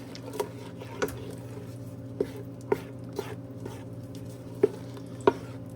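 Fruit jam mixture with pectin stirred in a pot before coming to a boil, a spoon knocking the pot in scattered light clicks over a steady low kitchen hum.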